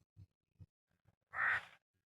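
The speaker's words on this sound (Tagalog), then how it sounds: "May uwak. Yung itim na uwak." A black crow gives one harsh, close caw after a few soft low knocks, then the air falls quiet.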